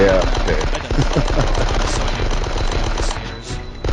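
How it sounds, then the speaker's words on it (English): Submachine gun fire in the Die Hard video game rattles in rapid, loud continuous bursts, clattering like a fast stapler, with a voice talking over the shooting. "the SMG kind of sounds like a rapid fire stapler, like more than a gun"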